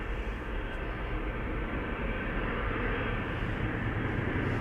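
A Boeing 747 bound for Miami at Amsterdam Schiphol Airport, heard as a steady, loud, broadband engine roar from a distance, unchanging throughout with no talk.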